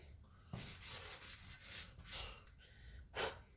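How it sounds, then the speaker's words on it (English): Soft pastel is rubbed into paper with a series of quiet, close rubbing and brushing swishes in an uneven rhythm, faint overall, with no speech. "let's rub that in"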